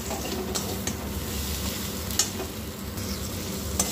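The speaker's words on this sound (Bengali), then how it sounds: "এরপরে মশলাটা খুব ভালোভাবে আমি কষিয়ে নেব।" Spice masala for a low-oil chicken curry sizzling and being stirred in a pressure-cooker pot, a steady dense frying hiss with occasional sharp scrapes of the spoon against the metal.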